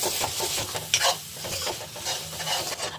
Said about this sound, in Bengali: তেজপাতা আর জিরা ফোড়ন দিয়েছি। এখন এটাকে ভালো করে লাড়াচাড়া করবো।